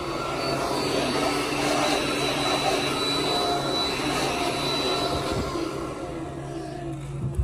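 An air blower roars steadily and loudly while blowing dust out of a Laguna iQ CNC console from the inside out, a continuous broadband rush with no talk.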